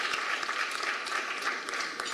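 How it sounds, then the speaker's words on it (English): Audience applause at an awards event, a dense, steady wash of clapping from a large crowd, loud and sustained throughout with no break. "A round of applause, ladies and gentlemen."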